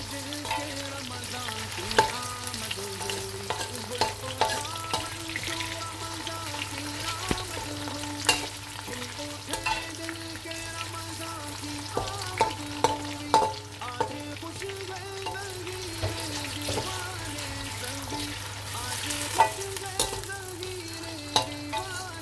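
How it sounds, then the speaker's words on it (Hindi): Potatoes frying with golden onions in a pan for vegetable pulao, a constant close sizzle with repeated spatula scrapes and knocks at irregular intervals, alongside a steady background hum. "अब हम इसमें आलू शामिल करेंगे। आलू को थोड़ा सा फ्राई करें।"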